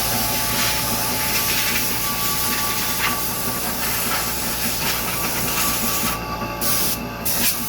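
Compressed air blasts into the pulley and rollers of a Monster Mill MM3 Pro mill stand, a loud continuous hiss that runs steadily with brief breaks near the end.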